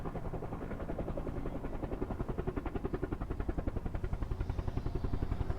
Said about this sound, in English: I love helicopters.